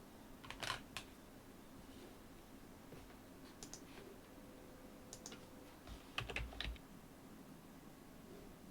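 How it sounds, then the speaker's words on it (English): Short bursts of keyboard typing sound out in a quiet room, a few quick clusters of key clicks separated by pauses. "I'm going to do some typing."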